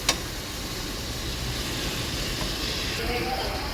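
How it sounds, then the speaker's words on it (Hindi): Mutton fries in a pot with onion, tomato, turmeric and red chilli masala, giving a continuous close hiss and sizzle with no break. "तो हमने मटन को भून लिया है।"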